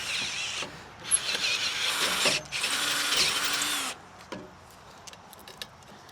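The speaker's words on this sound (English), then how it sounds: "We might just be able to drill the whole thing out." A power drill bores out a stuck part on a carnival ride, loud grinding bursts running for about four seconds with a short break, then trailing off into faint clicks and taps.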